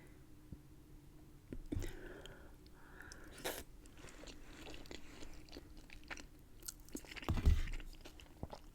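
Someone eats Olive Garden food up close for an ASMR mukbang, soft wet chewing and occasional crunchy bites, with a couple of louder crunches standing out over a quiet background.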